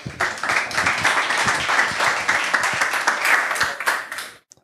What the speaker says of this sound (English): So give a warm round of applause to Konark and have fun with his talk.